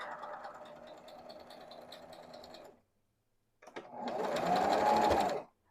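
A Brother XL-2600 sewing machine, cleaned and retensioned after 15 years, stitches in two bursts of steady, close motor whir with rapid needle chatter, separated by a short silent pause, the second burst louder.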